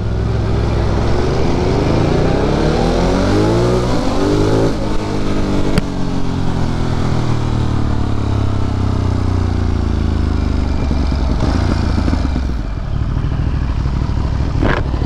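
A Triumph Street Triple RS motorcycle accelerates hard through New York City streets, its engine revving up through the gears with a steady loud roar and rising pitch sweeps, close and continuous for the whole stretch.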